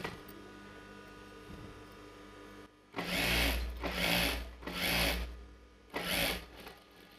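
A sewing machine stitches Patiala pant fabric in four loud, close bursts of rapid mechanical whirring, each lasting about a second and separated by short pauses, after a quieter stretch of background hum.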